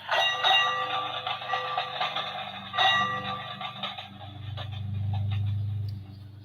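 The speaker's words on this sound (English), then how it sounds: "there's a book on, or a button on each page, and it's going to show lots of different trains" A children's sound book button plays a train sound effect: bright bell clanging over rumbling rail noise, with a low engine-like drone swelling toward the end, all fairly loud and alone.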